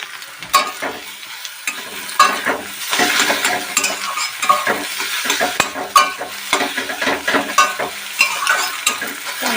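Egg bhurji sizzles loudly in a pan while a spatula stirs and scrapes it, with steady frying hiss and repeated close utensil strokes throughout.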